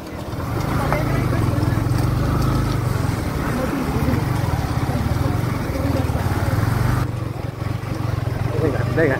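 A car engine droning steadily while driving along a winding mountain ghat road, a loud low hum throughout with road rumble, and people talking over it.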